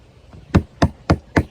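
Four sharp, evenly spaced hammer knocks sound close and loud, each a crisp dry hit with a quick decay, with brief quiet gaps between them.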